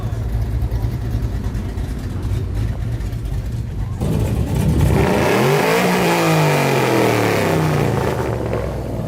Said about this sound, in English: Damn, they're rolling out.